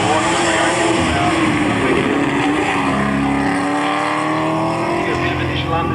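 An orange and black GT race car accelerates hard away from the line at the 1998 Australian Hillclimb Championship at Collingrove, its engine roaring loud and close throughout while a commentator talks over it.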